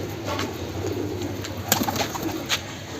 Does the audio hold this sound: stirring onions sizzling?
no